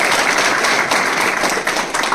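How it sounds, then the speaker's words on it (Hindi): Crowd applause at a motivational talk, dense and steady, filling the whole moment at close range with no gaps. "एक बार तालियां तो बजाओ"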